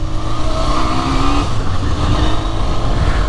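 A Yamaha Zeal 250 four-cylinder motorcycle engine revs loud and close, a dense high-pitched exhaust wail holding steady with a slight pitch shift partway through.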